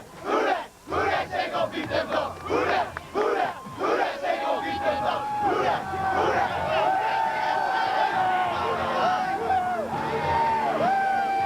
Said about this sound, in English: Let's listen in on the Berwick cheer